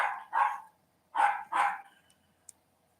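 A dog barks four times in two quick pairs, moderately close but not loud, followed by a tiny click and silence.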